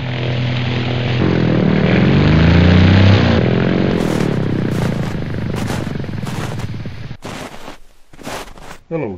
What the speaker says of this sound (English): there's a plane coming.